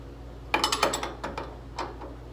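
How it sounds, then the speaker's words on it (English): Wrench snugging up bolts on an S550 Mustang rear coilover conversion: a quick run of close metallic ratcheting clicks, then a few softer clicks, in a quiet garage with no talk. "snug it up with some wrenches"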